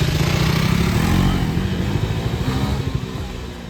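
A KTM Adventure 390 motorcycle on a test ride after its second service gives a loud, close, continuous engine drone with rumbling pulses and wind noise, easing slightly toward the end.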